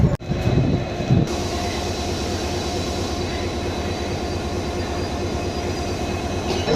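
A Rameswaram–Madurai passenger train hauled by a WDP4D diesel locomotive rumbles steadily and loudly nearby, with a continuous low drone and rhythmic clatter of wagons throughout.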